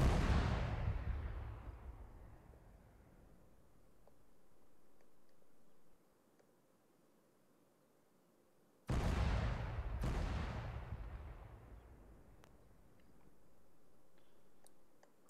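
Artillery shells fired in the ARMA 3 combat game: a heavy boom with a long rolling decay, then after a lull two more loud blasts in quick succession, each trailing off into distant rumble.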